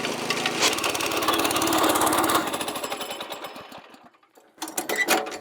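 A trencher's digging chain and auger tear through dirt with a loud, fast rattling clatter that slows and fades out near the end, then jumps back in with harsh, choppy mechanical bursts.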